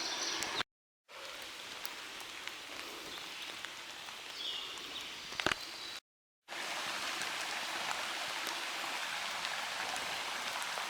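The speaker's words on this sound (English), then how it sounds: "And it's raining now, by the way." Rain falls steadily on a wooded hiking trail in Oil Creek State Park, a constant soft hiss broken by two short gaps, with a faint bird call and a single sharp tap midway.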